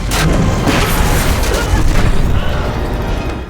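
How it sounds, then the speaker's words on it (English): A gas explosion in a room: a loud, rumbling blast followed by roaring, crackling bursts that swell and then slowly fade away. "she takes that lighter to the gas coming out of the vent and ignites it"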